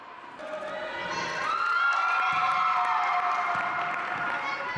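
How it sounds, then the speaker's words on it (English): A small crowd cheers at a wheelchair basketball championship in Sanaa, Yemen, with voices swelling into sustained shouting and whoops, a few court thuds underneath. "They dribble and pass as a small crowd cheers them on in Yemen's capital"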